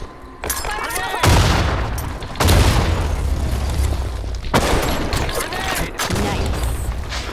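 Bursts of gunfire in the online shooter BlackShot, with several loud shots and volleys in quick succession over a steady background of battle noise, while players talk over it.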